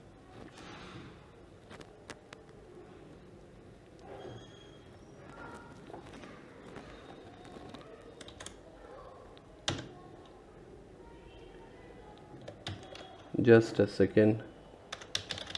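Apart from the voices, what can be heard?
typing on a Logitech K480 keyboard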